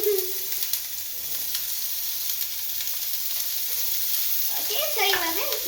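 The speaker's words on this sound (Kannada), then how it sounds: "ಸೊ ಇವಾಗ ಈರುಳ್ಳಿ ಹಾಕ್ತಿದ್ದೀವಿ." Chopped onions sizzle and hiss in a hot pan while Maggi noodles are being cooked, a steady frying crackle with stirring noises and a voice talking briefly over it.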